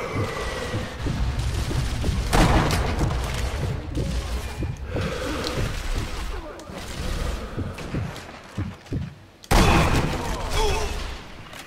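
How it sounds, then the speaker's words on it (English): Gunfire in Sniper Elite V2 on a city plaza, sharp loud bursts with booming impacts at irregular intervals and a couple of heavy blasts, mixed with muffled game sounds. "He was shooting at me."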